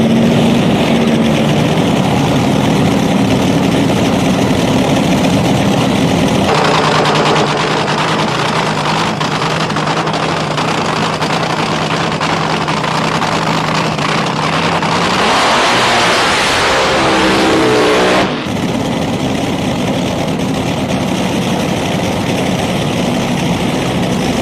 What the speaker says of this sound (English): I drive the Thrash Racing Top Fuel Dragster